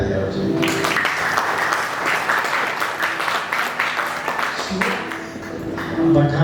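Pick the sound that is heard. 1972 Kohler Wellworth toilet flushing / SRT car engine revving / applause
applause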